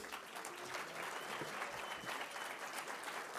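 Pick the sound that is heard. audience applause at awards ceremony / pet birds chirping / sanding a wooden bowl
audience applause at awards ceremony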